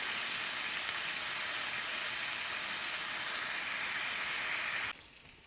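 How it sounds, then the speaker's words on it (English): Bacon frying in a cast iron skillet at a cabin gives a steady, dense crackling sizzle that holds evenly for about five seconds, then drops abruptly to a faint hiss. "So first we need to fry up some bacon."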